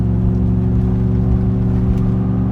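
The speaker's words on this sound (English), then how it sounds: "Oh yeah, got a good exhaust." A lifted 2013 Chevrolet Silverado Z71 LS 4x4 with a 5.3 V8 and an aftermarket exhaust drones with a deep, steady rumble from inside the cab while driving, with no talking.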